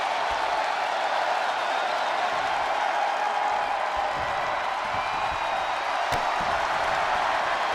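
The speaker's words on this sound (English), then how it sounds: "the crowd is loving Sasha's act." Arena crowd noise in the WWE 2K20 wrestling video game, a steady dense roar of cheering and applause held at an even level throughout, with no voices over it.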